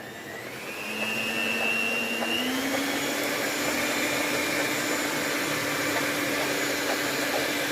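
A kitchen machine kneads rye and whole wheat bread dough, its motor spinning up within the first second into a loud, steady whir that holds for the rest of the clip with no talking.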